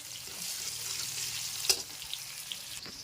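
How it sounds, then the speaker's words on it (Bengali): Onion and chili fry in fish oil with a steady, soft sizzle, broken by a brief clink near the end; no one speaks. "পেঁয়াজের লঙ্কা তেলের উপরে দিয়ে দিয়েছি, একটুখানি ভাজা ভাজা করে নিয়ে আমি ওইটা ঢেলে দেবো।"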